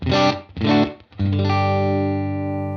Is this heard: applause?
no